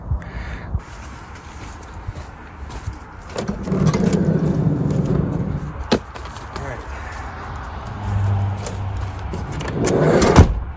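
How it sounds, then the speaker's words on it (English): Highway traffic passing near a riverside campsite, a continuous rumbling wash of vehicles with swells as cars go by, louder surges around the middle and end, fairly close and steady. "traffic just picked back up again, big time"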